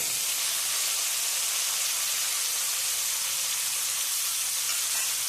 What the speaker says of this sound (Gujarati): હવે આપણે એની અંદર